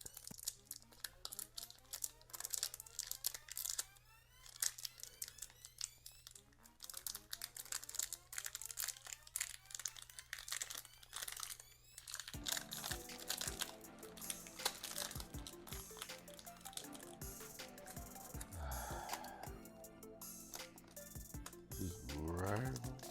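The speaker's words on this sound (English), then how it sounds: "You want to peel that back" Plastic tint film being peeled back from a car headlight during a headlight upgrade and rear light tinting job, giving a long stretch of close, crinkly tearing and crackling with scattered sharp ticks and brief handling noises.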